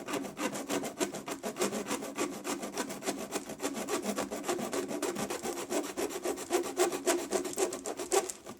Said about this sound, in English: Now you can hear I'm already getting through that ridge here of the metal clad.